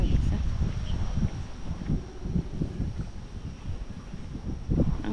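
Gusty wind rumbles into the microphone on a dark street at night, buffeting in uneven bursts with a steady low roar throughout.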